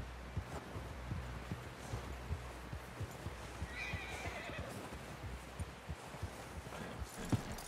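A horse in Red Dead Redemption 2 whinnies amid steady clip-clopping hooves, the neigh rising clearly around the middle over a continuous background din.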